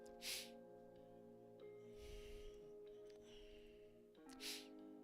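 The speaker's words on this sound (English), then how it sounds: "Sorry, I got the sniffles." Two short, breathy sniffles from a person with a head cold, one near the start and another near the end, close to the mic over a steady background hum.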